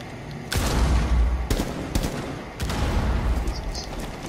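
Rapid bursts of gunfire in Rainbow Six Siege, several loud broadband volleys with short gaps, close and sharp, filling most of the stretch.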